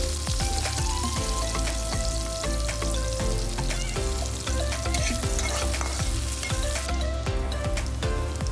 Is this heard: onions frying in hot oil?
yes